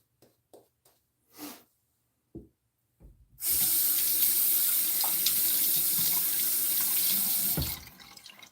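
A few soft clicks and knocks, then a tap opens and water runs steadily into a sink for several seconds before shutting off.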